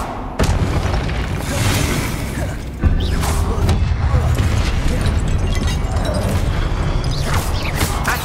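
Confringo spells explode in Hogwarts Legacy, two loud booming blasts about two seconds apart followed by crackling, rumbling combat noise, with a voice speaking over the action.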